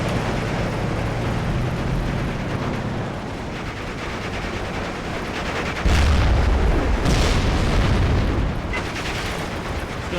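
Artillery and mortar fire rumbles through a dense, continuous wartime soundscape in the game Steel Division II, with a heavy boom surging around the middle and lingering mechanical clatter, loud and unbroken, with no talking.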